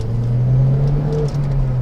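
A Mazdaspeed3 accelerating hard under turbo boost, a loud, close engine drone that holds steady with a faint whine riding above it.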